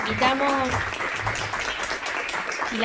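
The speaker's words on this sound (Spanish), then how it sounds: "le damos un fuerte aplauso a Hernán" Audience applause closing a conference talk by Hernán Ramírez at an academic meeting, a steady wash of clapping lasting a few seconds with a voice speaking briefly over the start.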